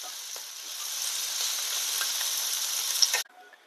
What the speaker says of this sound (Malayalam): ചെമ്മീൻ ഒന്ന് ഫ്രൈ ചെയ്തെടുക്കാം